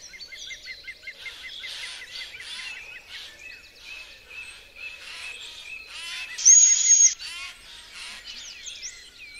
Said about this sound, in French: Elle a un cri très spécial pour les prévenir de son arrivée.